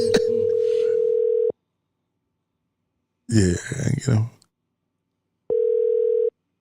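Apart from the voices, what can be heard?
telephone ringing tone while calling a home phone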